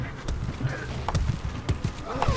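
Horse archers gallop in a Stronghold Crusader multiplayer match, rapid irregular hoof clip-clops at moderate distance over a low game din, with faint talk mixed in.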